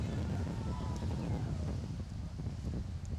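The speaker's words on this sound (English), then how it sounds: "More big gusts of wind now starting to come up and blow very strong." Strong gusts of wind buffet an outdoor high school baseball game, a steady low rumbling roar of wind noise that continues throughout, with no clear speech.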